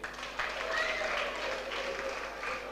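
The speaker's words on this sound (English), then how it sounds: "Clap for him." A school audience applauds at a sickle cell awareness event, moderate clapping after a brief lead-in, sustained under faint background voices.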